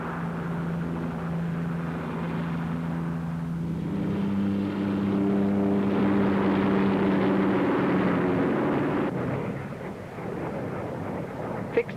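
Propeller-driven fixed-wing aircraft flying past at the Farnborough air show, a steady droning engine tone that swells louder toward the middle as it passes, then fades, with no talk.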